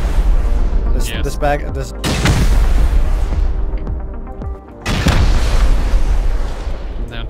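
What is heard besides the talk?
grenade launcher explosions in the video game Rust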